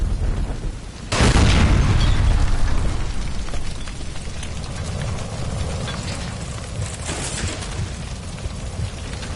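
A gas line explodes inside a room in the L.A. Noire video game: one sudden, loud, close boom that gives way to a long roaring, crackling rumble of fire and debris.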